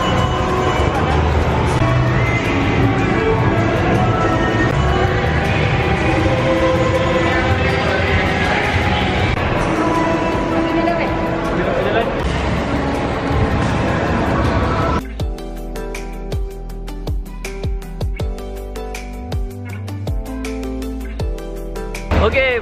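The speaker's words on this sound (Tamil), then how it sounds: "இந்த ட்ரெயின் வந்து டனல்குள்ளெல்லாம் போகுது." A small indoor theme park train rolls along inside a busy mall amusement park, a loud continuous rumble and crowd clamor that gives way to rhythmic clattering and clicking of the ride.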